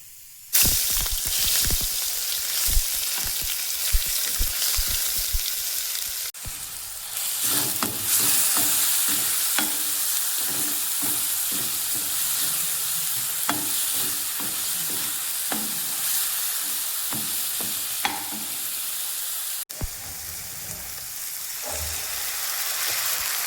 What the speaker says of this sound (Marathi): तेल झालं आहे गरम हिरवी मिरची लसण आणि अद्रकचा पेस्ट टाकून घेते